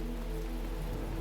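Steady rain falls in The Talos Principle video game, a constant dense hiss of drops on surfaces with a low rumbling bed underneath. No one speaks.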